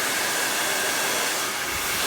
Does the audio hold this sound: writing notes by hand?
no